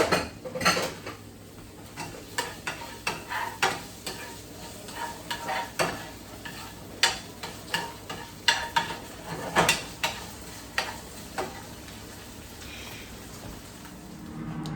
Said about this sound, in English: Then I add my fries. Toss it, it's already cooked, so it doesn't need much.